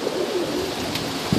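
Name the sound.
tippler pigeons cooing in strong wind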